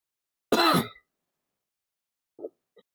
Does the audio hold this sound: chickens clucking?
no